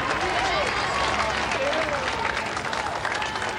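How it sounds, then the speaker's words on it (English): Marathon spectators lining a London Marathon course in the early 1980s applaud and cheer a passing runner, a continuous crowd roar of clapping that stays loud throughout, with voices mixed into the noise. "And there's a special round of applause for him."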